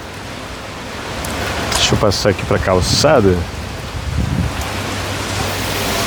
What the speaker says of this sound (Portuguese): andando aqui nessa chuvinha